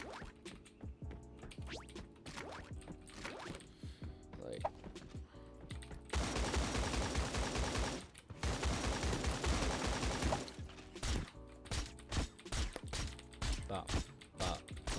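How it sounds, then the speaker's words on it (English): Rapid bursts of gunfire in the video game Creative Destruction, loud sustained volleys in the middle with scattered quick shots, mixed with keyboard and mouse clicking close by. "Bop, bop, bop. Quick shots, baby."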